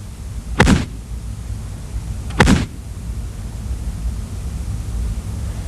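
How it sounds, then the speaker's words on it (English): Two sharp, booming reports from an M109 self-propelled howitzer firing during Army basic training at Fort Sill, spaced about two seconds apart, each a sudden broadband blast over a steady low rumble of background noise. "This is called the M109 self-propelled howitzer."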